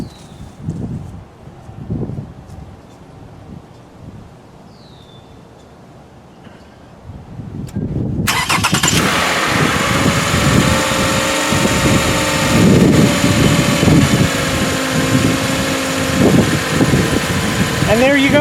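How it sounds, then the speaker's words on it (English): A car engine cranks and catches after a jump start from a Powrun 2000 peak amp jump starter, then settles into a steady, loud idle that runs on to the end, with quieter sounds and some talk before it fires. "now we'll start the car"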